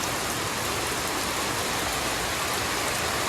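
Steady rain pouring down in a village courtyard, a dense, loud, continuous patter of drops on surfaces with no pauses and no voices.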